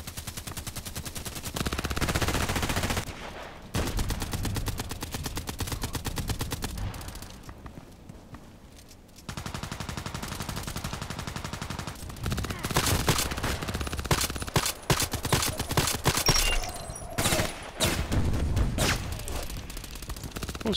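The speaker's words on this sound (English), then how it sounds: "Who's shooting so much?" Rapid automatic gunfire and bursts of shots in a first-person shooting game on the Old Sawmill map, loud and dense across most of the stretch with brief lulls and occasional single pistol shots.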